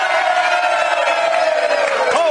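A crowd of people inside the Vegas Diner in Wildwood cheering and whooping loudly and continuously, a dense roar of voices that holds steady for a couple of seconds.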